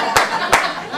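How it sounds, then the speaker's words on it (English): Two sharp hand claps ring out about a third of a second apart, close and crisp, with a voice talking faintly underneath. "Just a clap as you walk."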